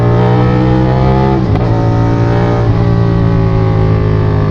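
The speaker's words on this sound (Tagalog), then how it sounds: "Ibang iba talaga yung tunog ng 450SR sa ibang 400cc na ka-level niya." A loud, steady CFMOTO 450SR motorcycle engine drone with a strong harmonic hum and a brief dip in pitch partway through, sustained and close.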